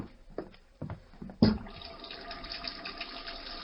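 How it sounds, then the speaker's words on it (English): Hot water running from a sink tap as a radio drama sound effect, opening with a few knocks and clunks before a steady close splashing flow, alone and without talk. "I'll need some hot water. Well, wait, there's a sink over there, Kent."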